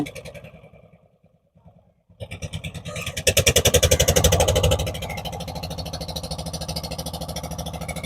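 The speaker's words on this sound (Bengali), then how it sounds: "এই যে আপনারা দেখতে পাচ্ছেন একটি নৌকা ছেড়ে যাচ্ছে তার গন্তব্যের দিকে" A motor boat pulling away on a river in rural Bangladesh, its engine first faint and sputtering, then starting up loud with a fast pulsing chug that holds steady nearby.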